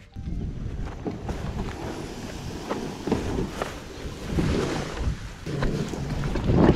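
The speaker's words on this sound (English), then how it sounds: "this wind is gonna be a problem today" Strong wind buffets the microphone on a fishing boat out on the water, a loud, gusty rumble that swells and rises toward the end, with no talking.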